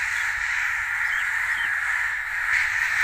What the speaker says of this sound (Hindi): ये देखें जी, कितने कौवे आ चुके हैं जी इधर।